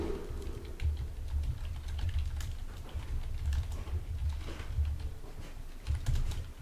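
Computer keyboard typing, steady clatter of keystrokes close by, with no talking, over a low background hum.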